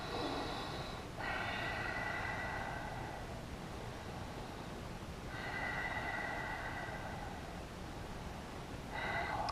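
Slow, deep breaths during a power yoga pose: two long hissing exhales with a pause between, close and soft against steady room noise, no talking.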